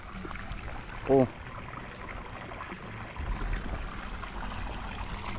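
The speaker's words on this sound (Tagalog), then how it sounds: "Lakas ng tubig." Strong water flow rushing through a farm field, a steady wash with a brief louder surge, heard alongside nearby voices.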